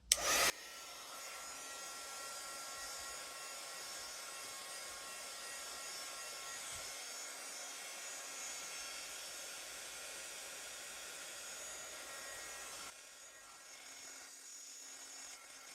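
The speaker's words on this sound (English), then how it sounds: "I am going to speed things up with my heat tool." Heat tool blowing to dry ink on a paper craft tag, a steady broadband whoosh running close and loud for about twelve seconds before cutting out, leaving quieter room noise.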